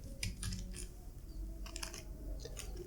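Keys on a computer keyboard clack in quick bursts as a command is typed, close and crisp, with short pauses between clusters of taps.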